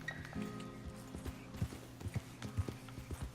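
Horse hooves clip-clopping in Red Dead Redemption 2, a steady run of close, dull thuds with a few heavier strikes, heard alone without talk.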